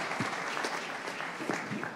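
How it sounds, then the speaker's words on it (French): An audience at a start-up pitch session applauds, a fairly quiet, even patter of many hands with a few louder individual claps poking through. "Merci beaucoup, on peut l'applaudir."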